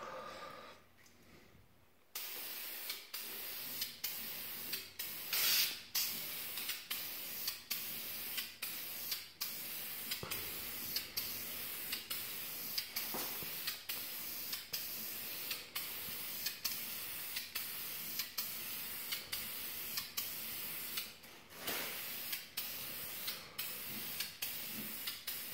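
A spray can lays a primer coat on a Corolla engine cover in steady, faint hissing bursts, broken by frequent short clicks and pauses over about 25 seconds.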